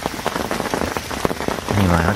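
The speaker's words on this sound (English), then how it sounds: "I'd do you a little bit of a vid for the old rain tapping it down" Rain tapping down outdoors at an estate fishing lake, a dense patter of drops striking a nearby surface, with a low droning hum rising near the end.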